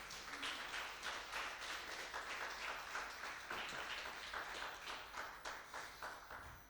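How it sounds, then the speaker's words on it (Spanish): Fast, steady applause from a church congregation fills the room for several seconds, many hands clapping at moderate distance and slowly tapering off at the end. "dale un fuerte aplauso"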